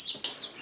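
Baby chicks delivered by mail peep in quick, high, thin chirps, close by and fairly clear, with a few overlapping calls.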